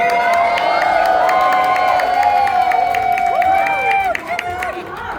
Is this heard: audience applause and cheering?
yes